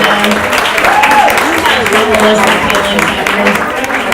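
An audience at a Women Grow DC meeting in July 2016 gives a speaker another round of applause, steady clapping that fills the whole stretch while voices talk over it.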